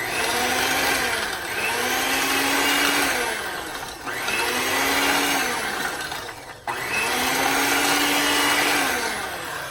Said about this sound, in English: I'm going to use a mixer